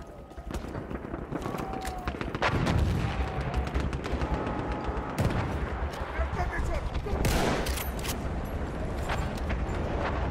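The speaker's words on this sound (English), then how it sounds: "That's a strong ass revolver." Revolver gunshots in the Battlefield 1 video game, a few sharp shots amid ongoing gunfire and explosions, with players talking over the action.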